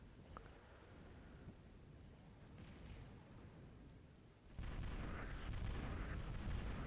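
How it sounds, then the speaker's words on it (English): Intimidator long-range artillery fires in the Total Annihilation real-time strategy game, a muffled low rumble that swells abruptly into a louder, sustained booming wash partway through, with no talking. "Intimidator's firing."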